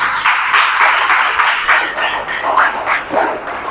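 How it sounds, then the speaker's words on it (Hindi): Audience applause at a live income-plan promotional seminar in Etawah, a dense steady wash of clapping lasting the whole stretch, loud and close with no talk over it. "एक बार जोरदार तालियां होने।"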